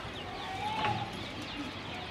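Pigeons in a netted loft give soft, faint calls and brief chirps over a steady, noisy outdoor background, with one clearer whistle-like note partway through.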